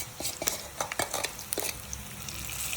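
Fish curry mix stirred and fried in a pan, with soft scraping spoon strokes and light clinks against the pan over a quiet sizzling hiss, close and fairly faint, irregular in rhythm.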